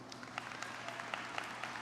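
A graduation ceremony audience at Martin Luther King Jr. High School applauds, a dense wash of many hands with scattered louder claps standing out, heard alone.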